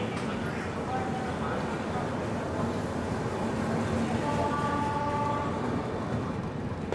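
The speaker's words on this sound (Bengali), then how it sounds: "আমাদের ট্রেন ছেড়ে দিল ব্রহ্মপুর" A train pulls out of Brahmapur station, a steady low rumble of wheels and carriages rolling beneath the talk of a passenger aboard, with faint squeals rising now and then.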